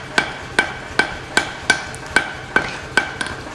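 A hammer rings against hot steel on an anvil horn as the bottom lugs of a carving axe are forged, nine sharp metallic strikes in an even, unhurried rhythm, close and loud, with no talk.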